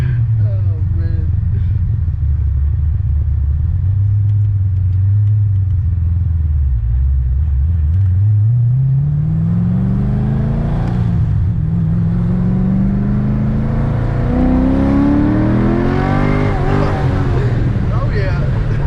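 A Toyota Supra or Corvette Z06 sports car accelerates hard through third gear, its loud engine note rising steadily in pitch over a heavy rumble, with excited voices talking over it.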